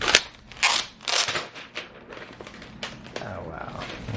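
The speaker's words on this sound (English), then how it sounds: "Always so nice unwrapping a new electronic device." Crinkly plastic and packaging rustle and crunch in quick bursts as a new Lenovo X1 Carbon 7th Gen laptop is unwrapped, close and moderately loud, with someone talking at times.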